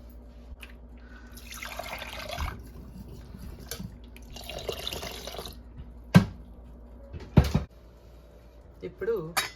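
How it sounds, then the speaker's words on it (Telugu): Water runs from a tap into a cooking pot in two sustained splashing bursts, with drips, clatters and a few sharp knocks around them and a voice talking through it. "ఇప్పుడు దీంట్లో సరిపడనంత వాటర్"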